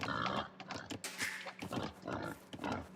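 A wild boar in the strategy game Age of Empires gives low, rough pig-like grunts and snorts in several short bursts, moderately loud and close, with no talk.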